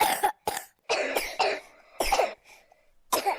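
Children at a children's home coughing, a series of harsh, close coughs in short bursts with brief pauses between them, alone with no talk.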